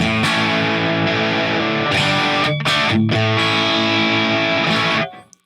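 An electric guitar plays through a Tube Screamer overdrive pedal on a Line 6 Helix, loud and sustained with a thick driven chord tone that briefly breaks and resumes, then rings out and cuts off near the end.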